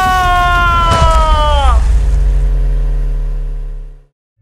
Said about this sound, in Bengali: ডাইনি তার বাইকের স্পিড বাড়িয়ে লালুর বাইকের পেছনে জোরে ধাক্কা মারে